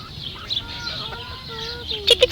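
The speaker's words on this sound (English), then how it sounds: "Look, Cassie, because we don't see enough chickens at home" Chickens at a nature center, soft clucks and a few short squawks close by, quiet and intermittent amid faint background noise.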